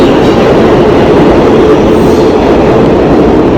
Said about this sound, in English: Get off the train.